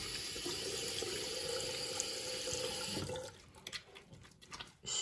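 Hands and nails rinsed under a running tap with lukewarm water: a steady gush of water flowing, then broken splashing and dripping as the hands move through the stream.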